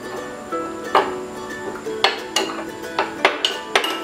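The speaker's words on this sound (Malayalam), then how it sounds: "ഇനി കുറച്ച് പാല് ഇതിലേക്ക് ഒഴിച്ച് നമുക്ക് നന്നായിട്ട് മിക്സ് ചെയ്തെടുക്കാം." Semolina, cornflour and milk stirred together in a bowl, a spoon knocking and clinking against the sides in scattered, irregular taps, close and fairly clear with no talking.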